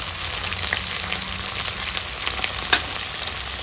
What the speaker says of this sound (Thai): ผัดกุ้งให้ ออกสุกๆซะหน่อยครับ